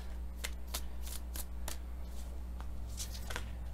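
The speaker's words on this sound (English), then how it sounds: "So let me just get the cards out." Tarot cards handled and shuffled for a reading, a run of crisp papery riffles and slaps at irregular intervals over a low steady hum, close and fairly quiet, with no talking.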